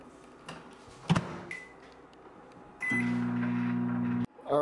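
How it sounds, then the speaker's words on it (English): A microwave oven heating a drink starts with a click, then hums steadily and loudly for over a second before stopping abruptly, preceded by a few clunks and taps. "You gotta put it in the microwave though for about 40 seconds."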